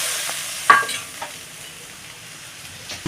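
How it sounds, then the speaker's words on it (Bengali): Water poured into frying masala for a rohu fish curry with potatoes gives a close hiss of sizzling that rises at once and then fades to a softer, steady fry, with a few light clicks and no talking. "একটুখানি জল দিয়ে দিচ্ছি"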